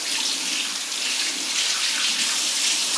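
Running tap water pours steadily over bacon being rinsed and squeezed under the faucet, a continuous close splashing hiss with no voices.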